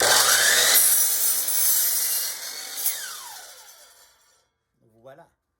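A power saw cuts through wooden deck boards, two at a time, for a backyard cat deck, its loud rasping whine running steadily for several seconds before fading out, followed by a brief faint knock.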